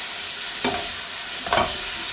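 Beef for a roast frying in a pan and being stirred, giving a steady sizzling hiss with two short, louder scraping stirs about a second apart, with no talking.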